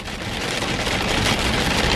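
Heavy rain during freeway driving, a dense steady hiss and drumming of drops on the car, loud and continuous for the short stretch.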